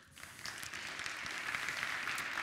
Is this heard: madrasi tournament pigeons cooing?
no